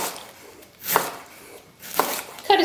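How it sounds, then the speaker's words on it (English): A knife chops cabbage into thin shreds on a cutting board for coleslaw, three crisp, close strokes spaced about a second apart, each a sharp thunk with a crunchy edge. "Then put the cabbage down on its cut side and just start chopping."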